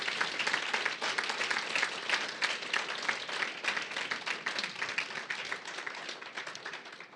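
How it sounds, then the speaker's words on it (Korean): A church congregation in Frankfurt claps together in sustained, dense applause, a steady wash of many hands that holds evenly throughout, fairly distant and soft, with no voices over it. "박수 한번 쳐드리십시다."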